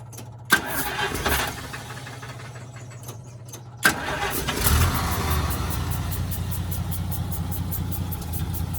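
A car engine with its fuel pump wired straight to the battery cranks, stumbles, then catches and starts, settling into a steady, loud, close idle with a brief rev.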